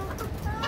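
Australorp hen clucking close by in a short, steady burst of soft clucks, with no talk.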